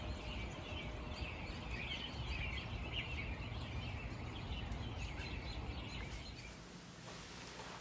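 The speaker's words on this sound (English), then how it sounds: "I've never seen so many birds" A dense chorus of many birds chirps and calls at once over a loud, continuous outdoor roar, the chatter filling the scene without pause.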